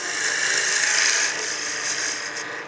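A steady, close, hissing shear of a wood-turning gouge making a slicing cut on a spinning mini mushroom Christmas ornament, continuous and even throughout with no talking.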